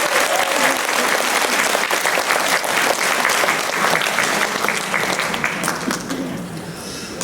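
A congregation at a church Liberation Day memorial service breaks into loud, dense applause that holds steady, then tapers slightly toward the end.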